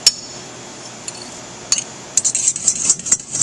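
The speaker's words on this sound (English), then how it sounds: "I'm just going to use my fork and slightly beat these before adding them to my oil" A fork beating eggs in a bowl while mixing carrot cake batter, first a few scattered clinks and then a quick run of light, rhythmic tapping against the bowl.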